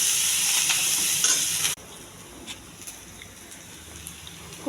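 Onions, cumin, mustard seeds and fenugreek fry in a pan for a pea and carrot curry, a steady close sizzle with stirring scrapes that drops abruptly to a quieter crackle partway through.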